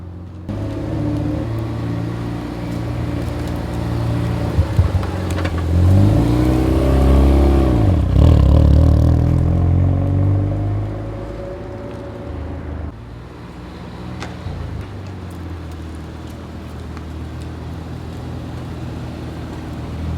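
A car engine with heavy carbon buildup revs hard, rising and falling in a loud roar before settling back to a rough, steady idle with a few small pops.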